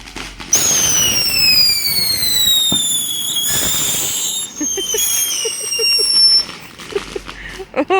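Fourth of July backyard fireworks with whistling rockets rising, bursts, and crackling pops, loud and near, with family voices chattering underneath.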